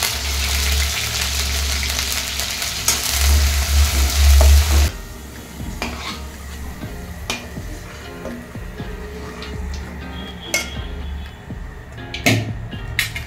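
Carrots frying in hot oil for a restaurant-style vegetable biryani, a steady loud sizzle with a low rumble early on that thins out into quieter crackling and occasional pops, with no voices.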